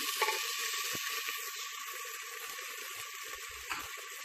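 Spoon stirring ginger, garlic and a splash of water in a clay pot for chicken curry, a steady sizzling hiss with soft scraping, fairly close and continuous, no talking.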